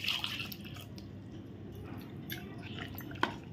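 Water is added little by little to rice flour in a kitchen, making soft wet dribbles, a few small drips and squishy stirring sounds, quiet and close.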